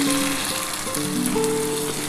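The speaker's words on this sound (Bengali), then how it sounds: "এই দুধটা কিন্তু আমি এবার দিয়ে দিচ্ছি" Milk poured into a sizzling spice mixture in a pan while cooking shukto, a Bengali vegetable dish; a steady close hiss and crackle of frying continues throughout with no talk.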